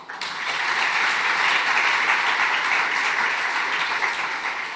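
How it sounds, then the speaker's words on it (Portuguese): Sustained audience applause at a launch event for an agribusiness atlas, thanking a foundation's staff; dense, steady clapping starts abruptly and holds loud and even throughout without voices. "Então, um último aplauso para eles."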